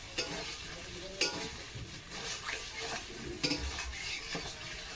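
Meat for biryani is stir-fried in a pot, with close, continuous sizzling and repeated scraping of a spoon against the metal, fairly quiet overall, no talking.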